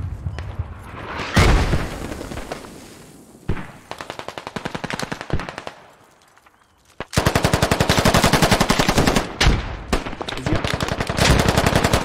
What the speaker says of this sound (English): Those mortars are spot on.